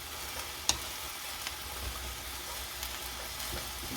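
Frozen celery frying in olive oil while being stirred and broken apart, a low, even sizzle punctuated by scattered utensil scrapes and clicks, one sharper knock near the start.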